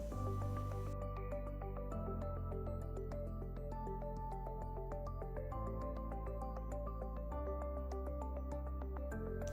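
Water drains from an ABEC 300L bioreactor tank, giving faint, steady drips and liquid gurgles over a continuous low equipment hum.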